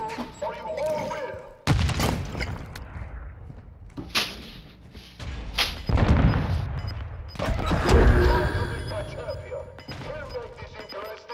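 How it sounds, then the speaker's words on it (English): Gunfire in the shooter Call of Duty: Modern Warfare II comes as sharp, loud bursts and single cracks scattered across the scene, with mechanical clatter and a player talking between the shots. "See him shooting to the left, up in the middle"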